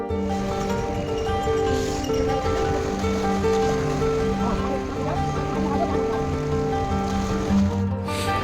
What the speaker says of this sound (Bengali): এই আমি হরকিপৌড়ি ঘাটে পৌঁছে গেছিলাম